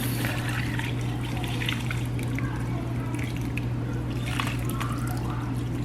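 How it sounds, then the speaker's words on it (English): Cooled water poured into a soil mix for winter-sowing seed containers, a steady trickling and sloshing pour lasting several seconds over a constant low hum, close and moderately loud with no talk. "So I'm just gonna add the water to this soil mix."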